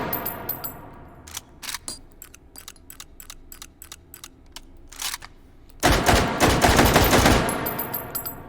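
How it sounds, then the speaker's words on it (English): An SKS rifle in the VR shooting game H3VR fires a series of sharp rounds one after another at an even pace, followed by the bolt being pulled back and racked and a burst of rattling clatter, all close and loud. "We can fire a few rounds, like so."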